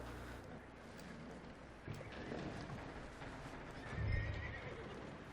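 Horse in the video game Red Dead Redemption giving a whinny over quiet clip-clop hoofbeats, with a brief louder neigh near the end, fairly faint overall.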